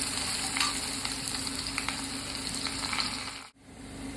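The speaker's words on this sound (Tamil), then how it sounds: "இப்போ ஸ்ட்ரைட்டாக வெங்காயம் போட்டுக்கிறேன்" Onions frying in a pan while cooking Kumbakonam kadappa, a dense continuous sizzle close up with faint stirring ticks, briefly dropping out before resuming.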